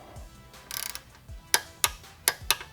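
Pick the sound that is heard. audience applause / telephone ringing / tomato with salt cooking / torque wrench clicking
torque wrench clicking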